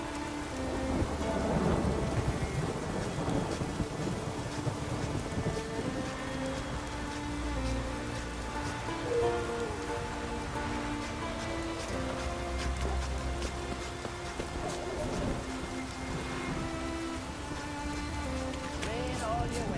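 Steady rain and rolling thunder in The Witcher 3: Wild Hunt, a continuous loud downpour with low rumbles throughout, no speech.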